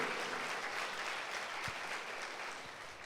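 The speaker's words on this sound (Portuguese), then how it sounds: "Se você se alegra, dê uma salva de palmas a Jesus." A church congregation claps during a Sunday worship service, a brief, fairly soft burst of many hands applauding together at a distance, with no voices over it.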